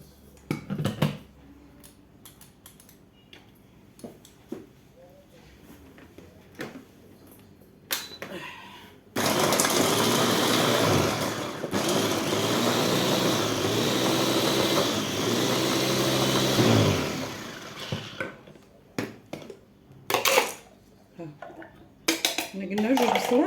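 A food grinder blends onions and garlic for a roast chicken dish, a loud steady whirring that runs for about eight seconds between quieter clatters of kitchen handling before and after.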